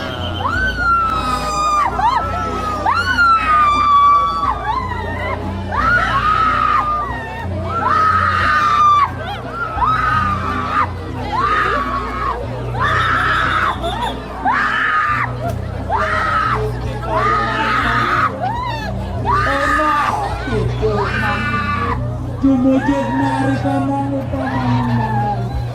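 Screams ring out at Pura Dalem Balingkang temple in Pinggan, Kintamani, Bangli: loud, repeated rising-and-falling wails, one after another, over a low constant background hum.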